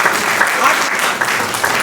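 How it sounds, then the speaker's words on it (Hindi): People at a welfare committee annual general meeting and election break into a short, loud burst of dense clapping that carries steadily with no pause. "और इसके लिए एक बार जोरदार तालियां।"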